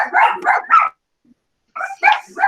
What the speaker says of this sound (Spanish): ustedes disculpen, tenemos muchos perritos por aquí